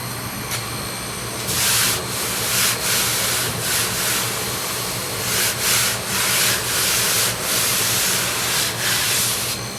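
A laser blaster works over the body of a VW Beetle, giving a harsh, loud hiss that comes in repeated bursts of a second or so over a steady low hum, with no talking.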